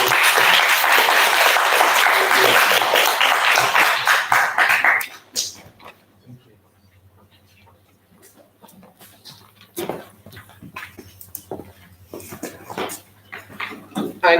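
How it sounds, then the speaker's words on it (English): Enthusiastic audience applause at a Year 6 school leavers event, loud and dense for about five seconds before cutting off abruptly, followed by scattered voices and movement in the hall. "If we give them a huge round of applause."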